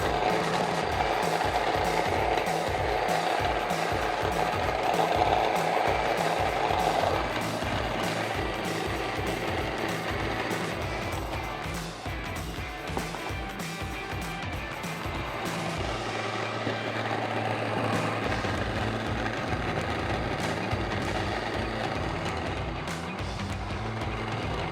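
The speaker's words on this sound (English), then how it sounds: "we will turn on the mill, put these in here and get started" An electric grain mill grinds wheat berries with a loud, continuous mechanical whir and rapid rattling, steady throughout with a slight change in tone partway through.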